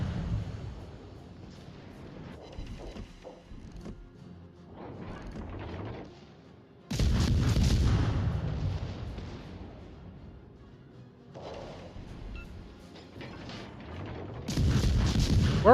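Jean Bart's 139mm guns firing in the video game World of Warships Legends, heavy booming salvos at intervals with the loudest blasts near the middle and end, over a low mechanical rumble.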